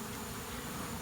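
Bees buzz steadily as they crawl out of a water meter box, a close, dense hum that continues alone without pause.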